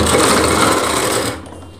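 A sewing machine runs a steady stitching burst along the side seam of a readymade Rajput-style lehenga, close and fairly loud, then cuts off and fades to quiet near the end.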